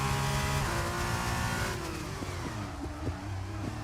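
Formula 2 race car at the Circuit of the Americas braking hard, its loud engine note dropping sharply through downshifts with several quick blips, close and continuous with no commentary over it.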